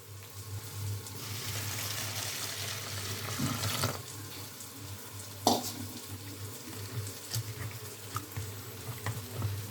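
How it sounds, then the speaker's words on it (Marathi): Water runs steadily from a tap into a bowl of red poha being soaked, a continuous splashing hiss with a low hum underneath and occasional clinks of a container. "हे लाल कलरचे पोहे आहेत नेहमीप्रमाणेच भिजून घ्यायचे मी भिजून घेते"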